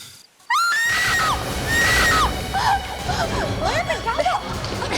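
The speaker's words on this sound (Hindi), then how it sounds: "किसी की चीखने की आवाज आई।" A woman's high-pitched screams and shrieks ring out over a busy, noisy background, rising and falling in several loud wavering bursts.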